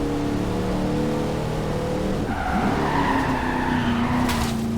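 A stock Cadillac Escalade drifts sideways, its engine droning loud and close while the tires scrub and squeal across the surface, the pitch sweeping and rising toward the end.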